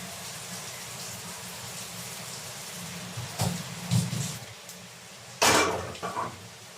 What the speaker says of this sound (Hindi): और जम के बारिश शुरू हो गई